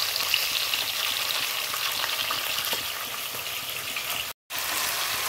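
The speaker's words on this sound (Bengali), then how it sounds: "এইদিকে আর এক রকমের মাছ ভাজা হচ্ছে" Rohu fish frying in a pan gives a steady, close, crackling sizzle that runs unbroken except for one brief gap near the end.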